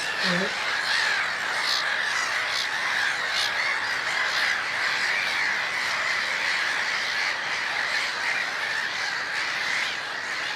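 Mediterranean gulls on a bay shore, squawking calls repeated throughout over a steady wash of wind or surf, moderately near, with a brief lower call near the start.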